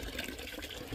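Water streams into a bucket in a vegetable garden, a faint steady splashing gush lasting under a second with no talk.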